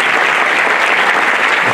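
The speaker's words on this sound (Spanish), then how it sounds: "También le pido un fuerte aplauso para él" An audience at a political party event applauds loudly and steadily. The dense clapping is close and fills the whole moment.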